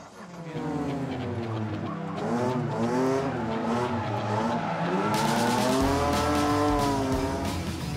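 An Aston Martin stunt car spins a donut, its engine droning and rising in pitch as the tyres squeal and skid in a long, loud, continuous smear.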